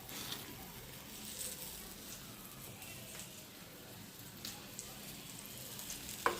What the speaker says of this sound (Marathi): फ्राय होतं फिश.